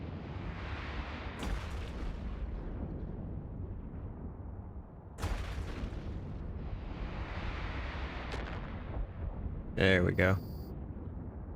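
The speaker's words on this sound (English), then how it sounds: "And we'll catch this groovy little explosion here." A ship exploding in the space game EVE Online, with broad rumbling blasts and bursts over a steady low drone. A sharp bright burst lands near the end, and a voice speaks briefly.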